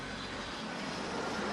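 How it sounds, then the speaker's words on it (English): A fixed-wing airplane comes in to land near Sunset Beach on St Martin, its engine a continuous broad roar that swells slightly toward the end, heard from outdoors without talking. "And you can see the planes come in like this."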